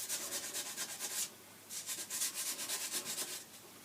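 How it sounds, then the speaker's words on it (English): Sandpaper is rubbed by hand along an aluminium walking stick in quick back-and-forth strokes, giving a soft, close rasping with a short pause partway through. "it takes a bit of rub with the sandpaper too, and takes all the any marks on that you've got on it"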